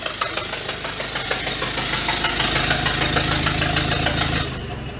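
A 1931 Ford engine with a leaky exhaust manifold runs loudly and close by, giving off a rapid, even ticking and puffing chuff over a rough drone before it cuts off abruptly near the end.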